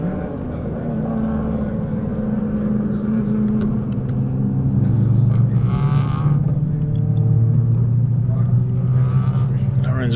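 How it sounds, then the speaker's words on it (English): BMW M Performance race cars weaving side to side on the track at Phakisa to heat their tyres, a continuous droning engine rumble that swells midway, under steady race commentary. "See them weaving from side to side, trying to get as much heat into the rubber."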